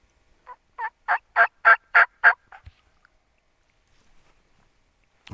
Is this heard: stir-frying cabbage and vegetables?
no